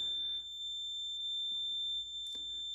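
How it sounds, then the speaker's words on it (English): A REM pod ghost-hunting device sounds a steady high electronic alarm tone in the third-floor kitchen of the old Paulding jail, with faint movement noises under it. "We got the REM pod going off too, if you can hear it, and the flashlight's on."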